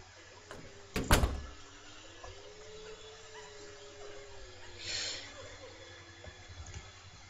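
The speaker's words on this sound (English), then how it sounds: "The door is open." A door opening in The Crooked Man video game: a sharp clunk near the start, then a long faint creak and a later soft swish over a quiet, hollow room tone, with no talk.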